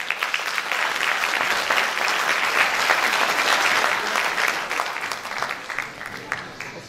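Sustained applause from a crowd at a Romanian National Day cultural show, dense and steady clapping that fills the whole stretch before tapering slightly near the end.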